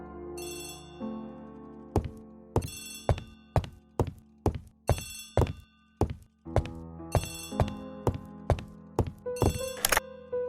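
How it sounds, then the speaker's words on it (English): An old-fashioned telephone ringing in The ABC Murders game, Agatha Christie's Poirot mystery, with a run of bright, sharp rings that repeat in quick bursts at a close, steady pace. "Poirot, the telephone."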